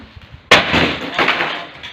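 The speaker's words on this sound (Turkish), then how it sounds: "Şimdi bu, bu cama sağlam indirelim." During a house demolition, firewood is thrown down onto a pane of glass, which shatters in one sudden loud crash followed by a brief trailing tinkle of shards, after a moment of quiet rustling.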